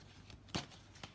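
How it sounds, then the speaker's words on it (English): Quiet riffle of tarot cards being shuffled by hand, a couple of short papery flicks a moment apart, close and soft. "I'm going to shuffle one more time."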